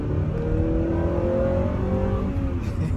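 A Honda Prelude Type SH engine revs up steadily as VTEC engages, a continuous loud, rising mechanical drone from inside the car with no talk over it.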